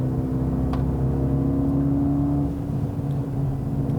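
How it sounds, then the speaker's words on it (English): A steady 2020 Mercedes-AMG CLA 35 engine hum drones close by with a low, even exhaust note, holding constant as the car cruises a curvy road north of Scottsdale, Arizona. "I just wanted to hear a little bit more snarl from the exhaust"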